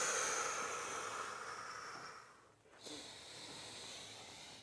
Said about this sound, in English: We'll take 3 more breaths here.